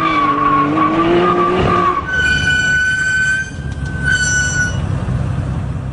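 A Nissan Skyline GT-R R34 Z-Tune screams loudly at high revs with its turbos engaged, a whining engine note sliding upward, then sharp sustained tire squeals cutting in over the roar.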